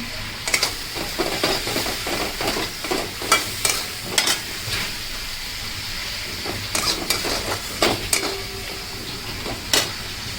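Spice paste for a pumpkin and potato curry, with a little ground cumin, is stir-fried in a pan, a close sizzle punctuated by rhythmic, fairly loud ladle scrapes and pan clatters, no talking.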